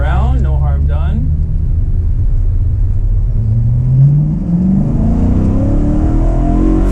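A BMW E92 M3 with a repaired exhaust header is pushed to full throttle, its engine note climbing steadily to about 8,000 RPM as a loud, continuous rising rev close by, preceded by a brief burst of speech.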